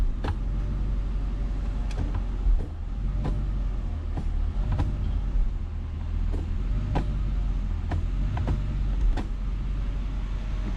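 Mercedes CLS55 Renntech engine idling steadily with a low, constant rumble, broken by regular soft clunks and clicks as the transmission is run through its gears, close and loud with no talk.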